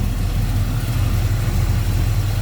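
A 1968 Chevrolet K20 4x4 V8 with headers and a Holley 4-barrel carburetor idles close by, giving a loud, steady, low rumble with an even lope and no talking.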